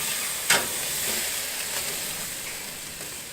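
Pork crisping on a Trailblazer BBQ hisses and sizzles steadily, with a brief louder pop early on.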